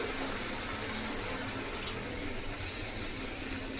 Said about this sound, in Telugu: ఇప్పుడు ఒక గ్లాసు నీళ్ళు పోయాలండి